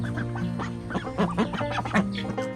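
Ducks in a backyard pen quack repeatedly in short, nasal bursts, several birds overlapping at close range with a steady low background hum.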